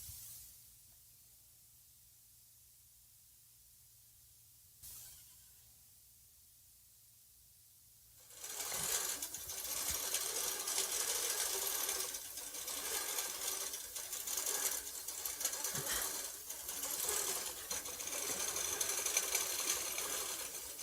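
A sewing machine stitches an embroidery pattern in steady, continuous running after a quiet start, loud and close with faint mechanical rattles throughout.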